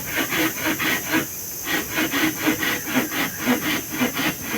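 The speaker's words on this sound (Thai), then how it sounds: "ตัดไม้ออกก่อน" Hand saw cutting through wood while building a small hut: quick, steady back-and-forth rasping strokes, close and fairly loud, with a brief pause before the rhythm resumes.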